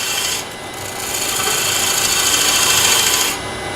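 A bowl gouge shears wood on a lathe, producing a continuous rasping, rubbing hiss that grows slightly louder as the cut deepens, then eases off near the end, with no talking.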